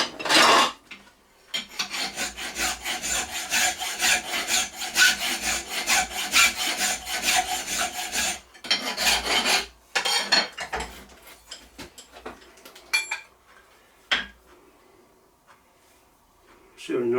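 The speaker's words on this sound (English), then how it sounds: "So if I kind of file that square, it should probably be a decent fit." A metal part for a keyless drill chuck is hand filed square, with a long run of close rasping file strokes followed by shorter bursts and pauses.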